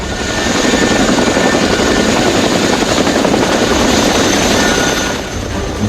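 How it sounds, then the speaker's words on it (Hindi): A military helicopter flies close and loud, its rotor thrum and turbine whine steady for several seconds before easing slightly at the end. "यही वजह है कि इस खास हेलीकॉप्टर को मौजूदा समय में दुनिया के 26 देश इस्तेमाल करते हैं"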